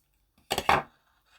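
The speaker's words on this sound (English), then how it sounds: "And cut that tail." Scissors cut a yarn tail after circular machine knitting in two quick, close snips, crisp and brief against otherwise near-silence.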